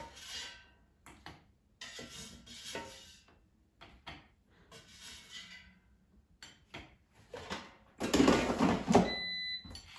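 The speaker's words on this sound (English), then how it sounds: "Let me take them out of the air fryer" Cooked breakfast sausage patties being lifted out of an air fryer, with sparse clinks and scrapes of a basket and utensils, then a louder clatter of handling near the end, no talking.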